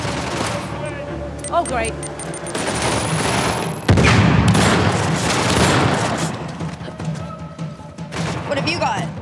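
Gunfire in the video game Uncharted: The Lost Legacy, with bursts of shots, booming blasts and rapid automatic fire that grows dense and loud midway, while players talk over the fighting throughout.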